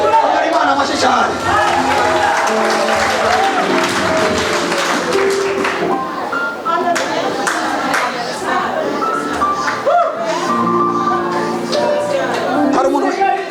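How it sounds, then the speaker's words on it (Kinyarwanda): A church congregation claps and cheers during a sermon, with loud, sustained applause and crowd noise running throughout, mixed with music and voices. "Imana amashyi cyane."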